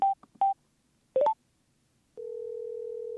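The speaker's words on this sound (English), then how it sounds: "I can trigger the speed dial number anytime by just double tapping the media button." Speed dial tones from an HJC Spirit motorcycle helmet intercom: a few short electronic beeps, a brief rising three-note chirp, then a steady continuous dial tone, clear and close with no talk.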